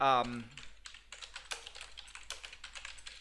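Keys clatter rapidly on a computer keyboard while a search phrase is typed, close and crisp, following a brief voice at the start.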